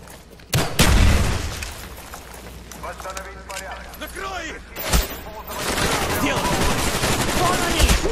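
Gunfire rattles through a Russian prison revolt at Vorkuta in Call of Duty Black Ops: a loud opening blast and volley, then further bursts and sustained shooting under shouted voices and game noise.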